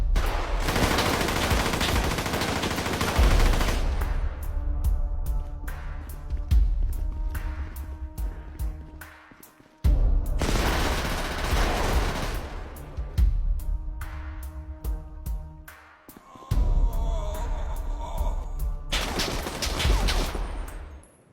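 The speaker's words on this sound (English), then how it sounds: "Durk came out with an AK-47, and he was wasting YoungBoy's men one by one" AK-47 gunfire sound effect: several loud salvos of rapid shots, each followed by a ringing, decaying tail, repeated about three times with short lulls between.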